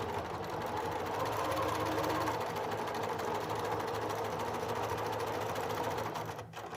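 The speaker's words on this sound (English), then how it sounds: "you line it up on your 1/4 inch here on your machine, and then you sew along that line" A sewing machine stitching quilt pieces along a quarter-inch seam runs in a steady, continuous mechanical whir with rapid needle chatter for several seconds, then slows and stops at the end.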